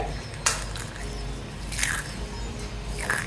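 Homemade crisp pani puri shells are snapped apart by hand, giving three short, sharp cracks spaced about a second apart, up close over faint background noise.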